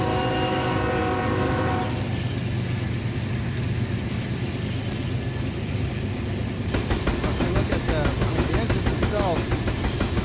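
A locomotive air horn in the Run 8 train simulator game sounds one loud, sustained blast for about two seconds, then gives way to a rumbling engine and a rhythmic clickety-clack of wheels on rails.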